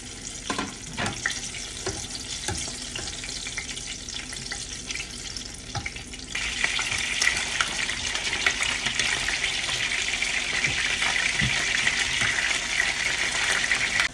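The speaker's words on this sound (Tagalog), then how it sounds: "Brown na, oh. Ganda ng pagkaprito, oh." Eggplant fries in hot oil, a steady, close sizzle with occasional crackles that grows louder and brighter partway through.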